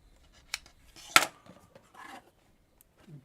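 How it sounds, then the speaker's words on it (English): A couple of quick, crisp scissor snips trimming a stray thread during quilt piecing, one sharp cut standing out among faint handling sounds in a quiet room. "let me trim that little thread that went astray"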